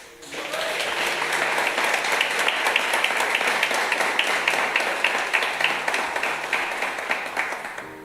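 A crowd breaks into sustained applause with a rhythmic, steady clapping pulse that swells and then gradually eases over several seconds.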